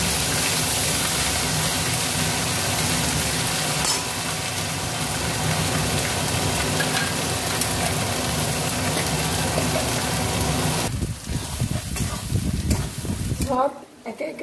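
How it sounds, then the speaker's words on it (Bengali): Ginger, garlic and onion paste with cumin, chili and coriander masala sizzling loudly in a pan for potol, potato and rohu fish curry, a dense continuous frying hiss that thins out near the end. "আমি মশলাটা কষে নেব।"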